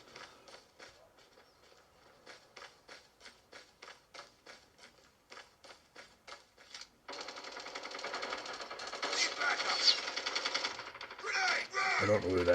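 Gunfire from a mobile shooter game played on a OnePlus Nord 2 5G phone: rapid bursts of shots in a steady rhythm, then denser overlapping game noise and effects, with voice lines in the mix.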